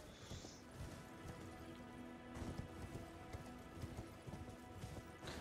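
Horse hooves clip-clopping in the video game Elden Ring, a steady run of close hoofbeats with no talk over them.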